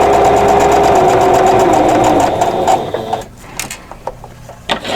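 A sewing machine runs in a fast, steady whir for nearly three seconds while joining quilt block pieces, then stops, leaving soft handling clicks and rustles close by.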